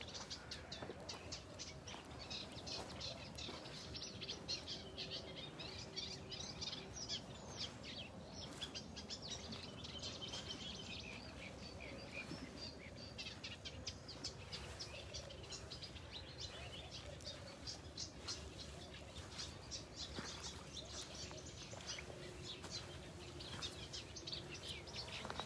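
Birds sing and chirp in an outdoor spot near water with fish, a faint, continuous dawn-chorus texture of many overlapping tweets and calls at a distance, with possible cooing of doves.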